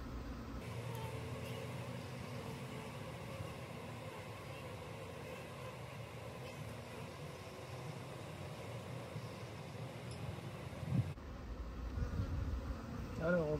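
An agitated honeybee colony with many queen cells and no queen buzzes continuously, a dense, steady drone close by, with faint handling noise near the end.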